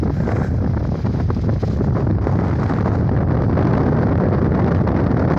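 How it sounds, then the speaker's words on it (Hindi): Strong wind roars steadily over the roof of a car travelling through Chamoli, Uttarakhand, a loud, continuous buffeting rush with no breaks for the whole stretch. "हवा चल रही है।"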